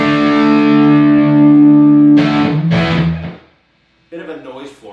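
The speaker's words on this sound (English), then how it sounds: "So, let's move on to the distortion" A sustained, heavily distorted electric guitar chord through a Boss ME-90 multi-effects distortion rings out, then two short choppy strums, a brief silence, and a quieter distorted riff.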